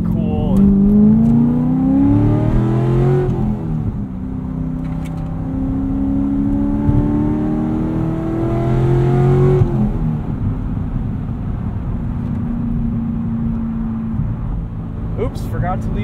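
Inside a 2012 Chevrolet Corvette Z16 Grand Sport manual coupe on the road, a steady engine drone rises and falls through the gears beneath tire and wind noise, with occupants talking over it.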